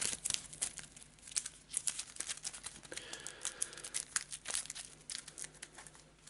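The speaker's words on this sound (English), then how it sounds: "A quick shuffle." Playing cards being shuffled during an Arkham Horror card game: a dense run of crisp riffling and crinkly snaps lasting several seconds, close and fairly loud, with no talk.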